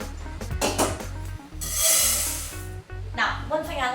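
Dry rice grains poured straight from a measuring jug into a cooking pan, a brief gritty rattling rush of grains spilling onto metal, heard close amid kitchen handling sounds and background music.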